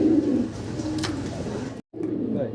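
Large fancy pigeons cooing in a pair or loft, low throaty coos up close, with a brief cut near the end before the cooing resumes, no clear talk.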